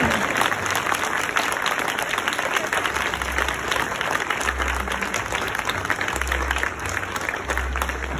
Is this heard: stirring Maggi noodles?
no